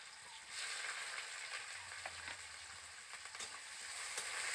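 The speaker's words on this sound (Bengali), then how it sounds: "পেঁয়াজটা আমি ভালো করে ভেজে নেব।" Chopped onion frying in oil with bay leaf, whole dried red chillies and five-spice in a home kitchen pan, giving a steady close sizzle with occasional light crackles and no voices.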